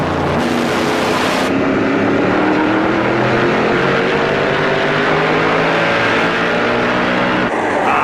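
A Mopar stock car's engine roars loudly and continuously during a 2009 NASCAR Camping World Truck Series race, rising in pitch as it accelerates down the backstretch, with a thick, throaty drone throughout.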